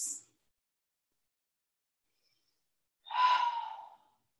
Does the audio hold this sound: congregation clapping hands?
no